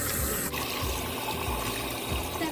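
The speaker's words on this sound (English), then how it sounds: "The next step is you want to take that cut of meat and then you want to rinse through it" Tap water gushes steadily into a sink as pork ribs for Vietnamese sweet and sour pork are rinsed under it, a continuous near splashing with no talk.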